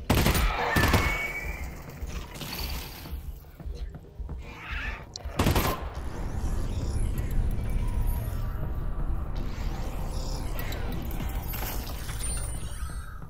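Pistol in Half-Life: Alyx, a couple of sharp loud shots about four seconds apart amid mechanical clicks and handling noise, with a low steady hum and muttering voice between.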